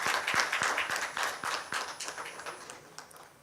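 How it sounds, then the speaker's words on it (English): An audience at a clean-energy summit session breaks into applause, a dense burst of clapping that starts loud and then thins and fades over a few seconds. "We'll have a round of applause."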